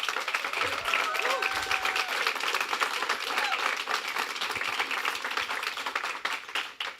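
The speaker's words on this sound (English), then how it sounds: "big applause." Sustained applause from an audience at the Innova Europe 2024 finale at Station F, a dense crackle of many hands with faint voices beneath, steady and fairly distant before tapering at the end.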